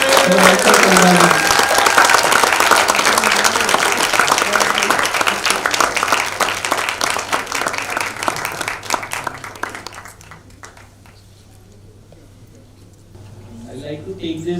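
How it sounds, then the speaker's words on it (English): Audience at a film premiere applauds in a dense, sustained wash of clapping that fades out after about ten seconds, followed by a quiet lull before murmuring resumes. "Big round of applause, everyone."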